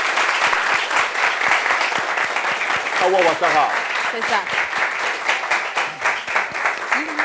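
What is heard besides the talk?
applause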